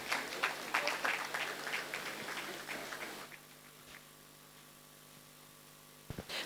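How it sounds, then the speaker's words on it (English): An audience at a Nigerian Bar Association Lagos branch law week conference session claps in a brief burst of applause. It fades after about three seconds into quiet room tone, with a couple of faint knocks at the end. "A round of applause, please."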